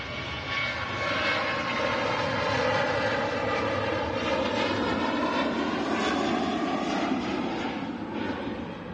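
A Ryanair jet airliner roars steadily on its takeoff roll at Manchester Airport bound for Alicante, a loud broadband jet engine rumble heard from a distance, sustained throughout with slight swells and no voices.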